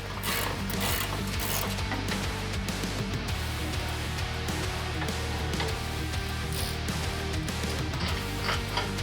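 A ratchet wrench drives bolts during an air suspension install on a Jeep Gladiator, with fast, repeated clicking pawl strokes and metallic mechanical rattles running continuously at close range.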